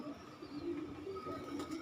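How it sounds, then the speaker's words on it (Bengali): Domestic pigeons coo in a steady, low murmuring stream while adults feed their squabs just after being given food, close by with no one speaking. "কবুতরগুলো দেখেন ওদের বাচ্চাদের কবুতর খাবার খাওয়াচ্ছে"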